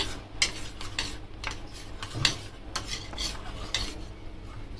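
Cornflour mixture being stirred into milk with a spoon, the utensil clinking and scraping against the vessel in a quick, steady rhythm, close and fairly loud, with no talking.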